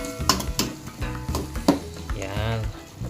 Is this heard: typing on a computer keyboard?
no